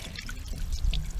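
Water pours and trickles over a hand during a well pump repair, a faint, brief splashing dribble heard up close with no talking.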